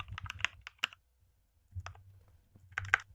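Keys clatter on a computer keyboard while code for a React Native e-commerce app is typed: bursts of quick, close clicks, a pause, then a short final flurry of keystrokes over a faint low hum.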